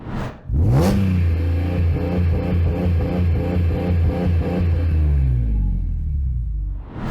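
BMW E46 M3 engine with launch control revving and bouncing off the limiter, a loud, close, rapid stuttering rumble held steady for several seconds before dropping away.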